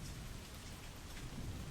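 Steady rain pours down as a sound effect beneath a spoken story, a constant soft hiss of falling drops with no voices heard over it.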